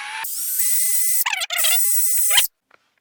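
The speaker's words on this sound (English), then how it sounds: "I'm going to take my drill bit and very carefully" A small drill bit bores through a wooden dowel held by welding clamps during a tiny loom repair, giving a close, high whining spin that falters twice midway before stopping abruptly, followed by silence.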